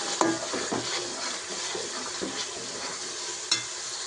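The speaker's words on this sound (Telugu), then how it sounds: "చికెన్ 3 కేజీలు ఉంది. వేసి చికెన్ మంచిగా కలిపేసుకోవాలంట." Three kilos of chicken sizzling in a pot with ginger and turmeric, stirred with a few scraping knocks of the spoon against the metal over a steady frying hiss.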